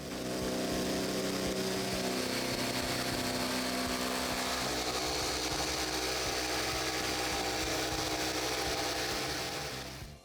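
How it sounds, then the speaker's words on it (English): A Festool Carvex jigsaw cuts freehand through wood along a line, a loud, steady, close buzzing drone that holds constant for about ten seconds before cutting off. "I can now come back with the Carvex, and I'll cut on the outside of that line freehand."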